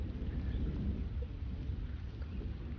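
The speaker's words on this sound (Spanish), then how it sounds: "Y ya está el agua. Primera lluvia del rancho." Steady rain falls on a ranch with a dense, low rumbling wash, continuous and fairly close, with no voices.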